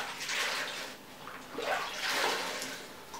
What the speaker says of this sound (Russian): Берется губочка, мочится в воде